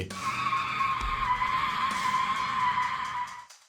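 A car skids with its brake-locked wheels, giving a loud, sustained tire squeal that runs steadily for about three seconds before cutting off abruptly.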